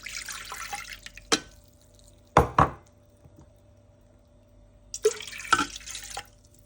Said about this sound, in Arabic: هنايا في لو بول تاع الترموميكس ندير 2 كيسان ماء بحراره الغرفه